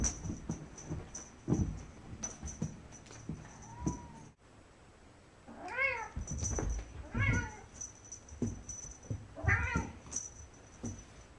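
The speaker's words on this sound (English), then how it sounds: "This is my cat," A house cat gives several distinct, rising-and-falling meows, close and fairly loud, spaced a second or two apart, with some soft handling noise between them.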